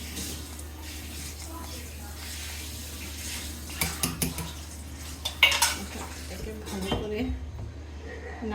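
A spoon scrapes and clinks against a pan as jaggery and coconut filling is stirred, the light metallic taps clustering in the second half over a low background hum.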